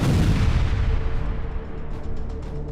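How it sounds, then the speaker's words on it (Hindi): A missile strike on a residential building in Gaza, heard as a massive sustained roaring blast with deep rumble that slowly decays over a few seconds, loud and dense throughout. "एक इमारत पर मिसाइल अटैक का लाइव वीडियो आया है"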